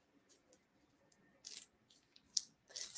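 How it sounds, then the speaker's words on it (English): Paper being ripped in several quick, separate tears, some short and soft, others longer and sharper, close by in an otherwise quiet room. "just listen to the sound of paper ripping"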